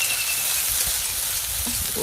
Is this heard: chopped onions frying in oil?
yes